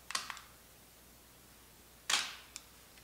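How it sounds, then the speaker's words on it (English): A camera in mirror-up mode fires its shutter as two sharp, quiet mechanical clicks about two seconds apart, each with a faint short rattle, in an otherwise silent room. "Then just release the shutter."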